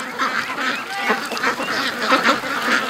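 A flock of domestic ducks coming back home from foraging at a lake, quacking continuously and busily at close range, several birds calling over one another.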